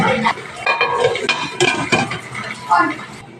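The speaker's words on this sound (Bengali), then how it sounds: "এইভাবে আস্তে আস্তে করে ভালোভাবে কষিয়ে নেব" Bottle gourd greens with prawns are stir-fried in a pan, with a steady series of metal spatula scrapes and clinks against the pan, fairly close and continuous.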